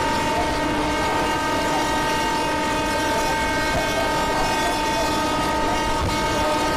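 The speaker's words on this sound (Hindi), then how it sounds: "हम भी बेल बजा देते हैं जैसे कि लोकल ट्रेन में बेल बजाते हैं, हम भी वही कर रहे हैं, और फिर हॉर्न बजा के यहाँ से डिपार्ट करेंगे" A Mumbai local train on the Churchgate–Goregaon slow line sounds one long, steady horn note that holds unbroken at constant loudness through the whole stretch, with a rumbling bed beneath.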